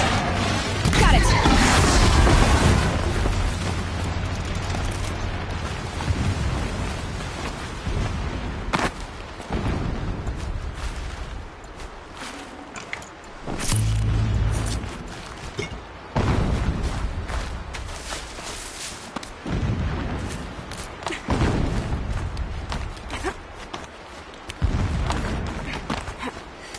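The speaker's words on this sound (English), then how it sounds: "Explosions in the distance." Several dull booming blasts in the distance, recurring irregularly amid sound effects from the video game Horizon Zero Dawn and a voice speaking over them.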